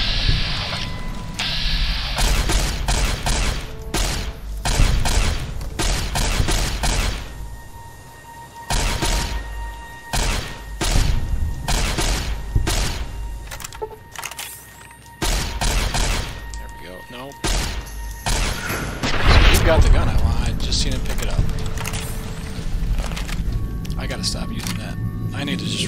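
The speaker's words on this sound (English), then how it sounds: "The goal is to have Boone equipped with an anti-material rifle and as many explosive rounds as possible" Anti-material rifle fire with explosive rounds in the video game Fallout: New Vegas, heard as many sharp, cracking shots and thumps in irregular bursts, loud and close, with a person talking over much of it.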